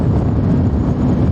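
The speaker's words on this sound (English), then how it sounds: "Sorry if I'm shouting, it's a bit hard to hear myself over the wind." Steady, loud broadband wind roar buffeting the microphone while riding a 2017 Suzuki GSX-R1000 superbike, continuous with no break.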